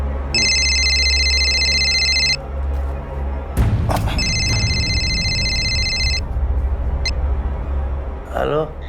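A phone rings with two bursts of a bright electronic ringtone, close by, and voices and some background noise break in between the rings.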